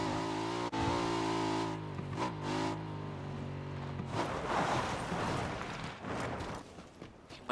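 Motorcycle engine in PUBG revving up, a steady droning motor tone rising and falling with throttle bursts and gear changes, close and fairly loud with no talk.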